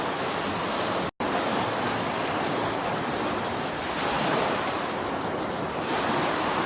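Noisy waves wash against the pebbly Thames foreshore as the tide goes out, a steady broadband surf roar with gusts of wind, interrupted by a brief dropout before resuming.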